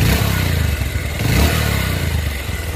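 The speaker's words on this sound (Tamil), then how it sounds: "இப்போது இன்ஜின் சவுண்ட் நீங்கள் கேட்டிங்க" A Bajaj Pulsar 150 twin-disc motorcycle engine runs close by in a quiet spot, a loud steady putter with a brief rev swell midway and slight mechanical clatter.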